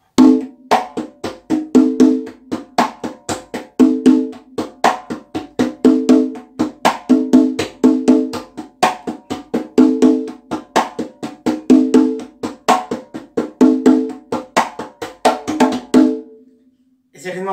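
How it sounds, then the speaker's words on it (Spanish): Hand-played conga in a slow cha-cha-cha rhythm, with repeating patterns of crisp open tones and slaps in a steady, even pulse, close and loud, ending abruptly. "Es el mismo ritmo que tocamos en el cha-cha-cha"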